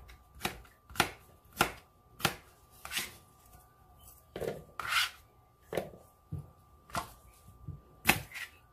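Cucumber cut with a knife for kimchi, a series of crisp, evenly spaced chops about every half second, close and clear, with a brief uneven patch midway and no talk.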